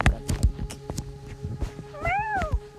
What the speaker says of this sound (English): look, that's a cat!